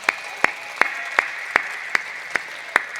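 Audience at a Hindi kavi sammelan poetry recital in Siwana claps in unison, sharp single claps landing in a steady rhythm about every third of a second.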